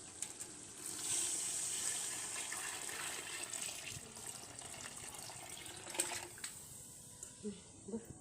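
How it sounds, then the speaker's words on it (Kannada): Water pours steadily into a pot for cooking rice, a continuous close splashing rush that fades toward the end, with a voice talking over it. "ಅದಕ್ಕೆ 2ರಷ್ಟು ಅಂದರೆ 10 ಲೋಟ ನೀರನ್ನ ಹಾಕ್ತಾ ಇದ್ದೀನಿ"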